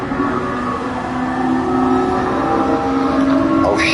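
A stock Gran Turismo 7 Gr.2 race car engine drones at high, steady revs while pushing toward top speed, loud and continuous, with a quick rising whine near the end.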